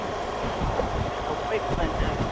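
Strong wind gusts steadily past a moving vehicle on an old highway, a broad continuous rushing roar with no voices.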